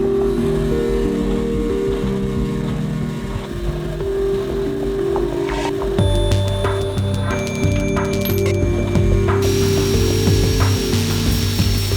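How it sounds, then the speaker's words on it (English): Steady, continuous power-tool grinding and cutting on a metal alternator bracket for a Subaru EZ30R twin-turbo Porsche swap, loud and close with shifting pitch and tone throughout, no talking. "I think I'll start by cutting this bracket and getting this all cleaned up."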